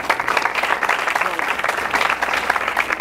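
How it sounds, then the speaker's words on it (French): An audience claps through a talk on the importance of studies, a steady patter of many hands that swells and dips slightly, with some voices mixed in. "Vous pouvez applaudir,"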